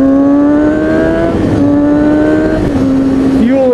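A fuel-injected inline-four Kawasaki 636 motorcycle engine revs loud and close, holding a high whine, dipping and rising through several shifts, then swooping up again at the end.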